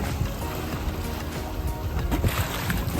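Sailboat moving through water at about 6 knots, a steady wash and splash of water along the hull with wind noise, continuous and moderately loud.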